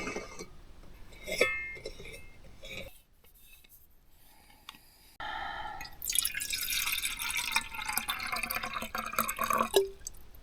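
Water poured and dripping into a camp cooking pot at a cabin in a burned forest, with clinks and drips, a quiet pause, then a louder rushing splash that runs steadily to the end.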